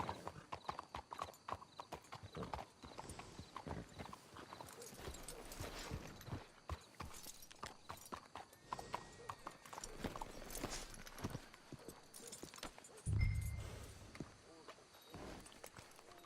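Horse hooves clip-clop steadily through the whole stretch in Red Dead Redemption 2, with occasional snorts and a brief whinny, mixed under in-game dialogue and ambient music, with a louder low thump near the end.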